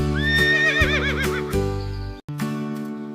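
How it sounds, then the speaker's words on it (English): A horse gives a loud, wavering whinny that trails off into snorts, ending with a short second neigh; no voices over it. "A baby horse is called a foal."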